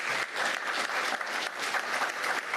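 Audience at a county commission meeting giving a warm, sustained round of applause, steady and dense throughout with no gaps.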